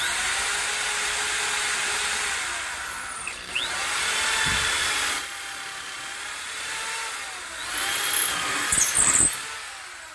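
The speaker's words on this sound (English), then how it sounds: "I'm going to take my 5/16 drill bit, and I'm just going to drill through the head." A 5/16 drill bit bores through the head of a shovel handle with a steady, moderately loud drill whine that shifts pitch slightly as it cuts, ending in a few brief rattling bursts near the end.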